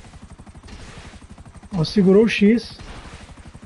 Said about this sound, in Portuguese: Esse helicóptero aqui você pode jogar míssil à vontade, não precisa parar de atirar.